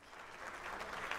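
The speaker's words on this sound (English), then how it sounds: "you have to do that clap thing" Steady applause from a few people clapping for a pregnancy announcement, a dense patter of hand claps that swells slightly toward the end.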